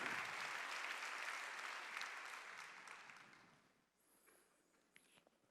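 A church congregation claps together during a Sunday sermon, a dense, loud burst of applause that thins and fades by about four seconds, leaving a quiet room with a few scattered sounds.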